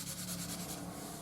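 An Ohuhu alcohol marker blending two colours on paper, a close, continuous soft rubbing with faint rhythmic strokes as the nib is worked back and forth.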